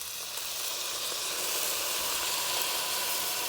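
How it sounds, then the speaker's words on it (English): Diced tomatoes and green chilies saute in a pot for a Southern crawfish Creole, giving a dense, even sizzle and hiss that holds steady throughout, close and moderately loud, with no talk. "stir and just keep sauteing and simmering it for a minute"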